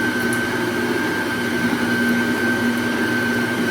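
An electric mixer creams ingredients for a devil's food cake, making a steady, close, unbroken whirring hum with no talk.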